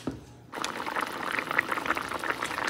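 Water poured into a potato curry hits the hot pan, then bubbles and sputters in a busy simmer with small crackles, close up and without talk.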